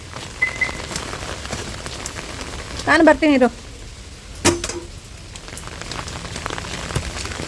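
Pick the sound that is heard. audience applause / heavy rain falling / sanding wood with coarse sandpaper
heavy rain falling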